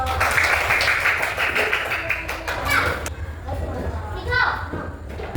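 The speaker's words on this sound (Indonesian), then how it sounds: "Tepuk tangan untuk kawannya." Grade 4 schoolchildren clap together in a classroom for a classmate, a dense, steady patter that fades after about three seconds into children's chatter and voices.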